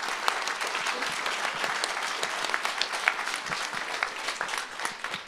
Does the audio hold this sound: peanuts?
no